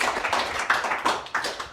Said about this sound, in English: big Open Space Conference round of applause for Tony Fall.